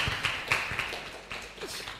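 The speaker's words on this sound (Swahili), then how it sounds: "Mpigeni hata makofi basi." Scattered light hand clapping from a small seminar audience, a few uneven claps spread over two seconds, fairly faint and close.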